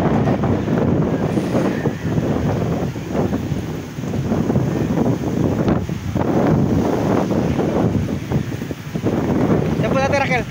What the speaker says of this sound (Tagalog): Lakas ng hangin, parang ulan.